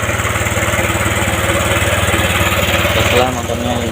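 A motorcycle engine, one with a broken hall sensor and a cut wire, runs steadily after a kick start, a loud close idle with rhythmic low pulsing that shifts slightly near the end.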